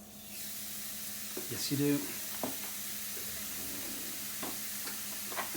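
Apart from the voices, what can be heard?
beef burger patty sizzling as it goes on the grill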